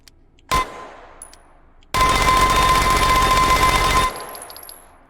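A Mini Uzi submachine gun fires in a video game: one short burst, then a sustained rapid full-auto stream of about two seconds that cuts off sharply. The shots are loud and close, with a metallic ring and no talking.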